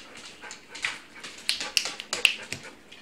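A dog whimpering indoors near a toddler, with a few short high-pitched whines and soft yips scattered in bursts, close and moderately loud against a quiet background.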